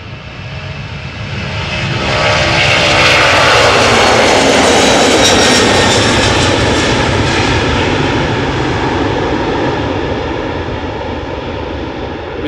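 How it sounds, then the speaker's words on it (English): A DHL Airbus A300-600 cargo jet departing Amsterdam Schiphol, a loud roaring jet engine that swells as it passes close by, then slowly fades into a broad distant rumble, with no speech. "DHL A300-600 going back to Madrid"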